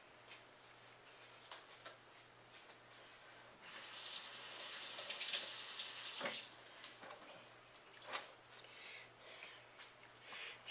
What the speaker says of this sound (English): now I'm going to rinse my hands again.